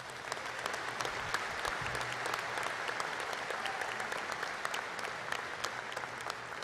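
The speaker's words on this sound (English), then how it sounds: "Give yourselves a round of applause." A crowd at a high school graduation ceremony applauds continuously, a steady wash of many hands clapping at moderate distance with no voices standing out.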